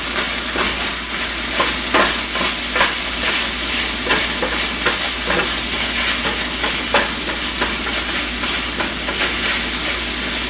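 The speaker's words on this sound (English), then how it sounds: "I'm going to give this a stir." Onion stirred in a hot frying pan for baked spaghetti, a steady close sizzle and hiss with repeated scraping strokes of the utensil against the pan, continuous and fairly loud throughout.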